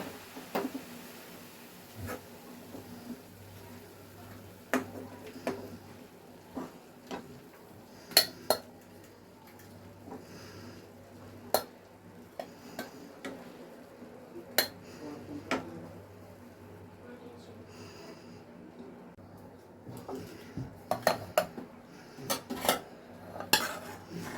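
Cooked cabbage being scooped from a pot into a mixer jar, with a series of sharp metal spoon clinks and scrapes against utensils spread over a quiet kitchen background, busier toward the end.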